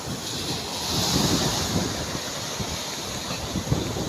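Strong sea waves churned up by Typhoon Opong roar continuously with heavy surf wash and gusting wind buffeting the microphone, a loud, steady broadband rush with no speech.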